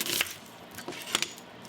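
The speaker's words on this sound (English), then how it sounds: "Got 1 small onion. We're just going to slice this." A knife slices a small onion in half on a cutting board, with a few short, crisp cuts and taps close by, quiet and without talk.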